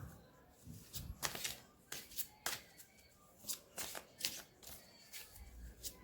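Faint riffling and slapping of tarot cards being shuffled by hand, a series of soft irregular flicks and taps close by, quiet and without talk.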